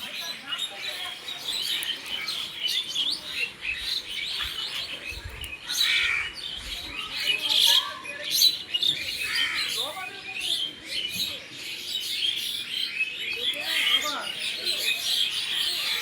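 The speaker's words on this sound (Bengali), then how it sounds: "পাখির কিচিরমিচির আওয়াজ" Birds chirp and twitter on a house rooftop in Bangladesh at dusk, a busy continuous chorus of small calls at moderate distance, with no talking.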